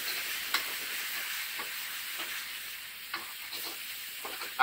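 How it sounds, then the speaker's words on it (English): Rice and chili are stirred in a frying pan, with a steady sizzle of frying broken by repeated scraping strokes of the utensil, a sharper clank at the end, and no talking. "after that put in the rice into the frying pan. Stir it."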